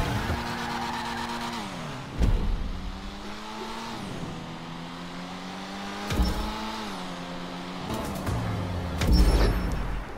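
Cars roar through a GTA V checkpoint race, their engines rising and falling in pitch as they shift gears, with occasional tire skids and thumps over a steady, continuous engine drone.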